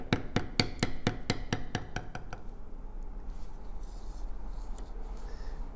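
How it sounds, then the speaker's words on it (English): A mallet strikes a bevel tool on tooled leather in a quick series of about eleven sharp, close taps during the first half, then stops, leaving quiet room noise. "Come back to the short line and bevel that back up"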